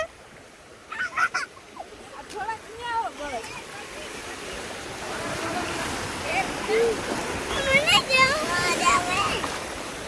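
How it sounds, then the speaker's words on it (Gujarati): Sea waves wash steadily onto Mandvi beach during a beach festival, a continuous broad surf roar filling the scene, with people talking and occasional honking calls rising over the water noise. "અહીંયા ઊભું મોજા આવશે જો"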